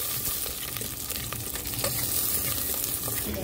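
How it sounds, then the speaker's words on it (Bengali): Chopped garlic frying in hot white oil in a pan while being stirred, a steady close sizzle with faint crackles and light scraping, moderately loud and without any voices. "রসুনটাকে হালকা নাড়াচাড়া করে নিচ্ছি"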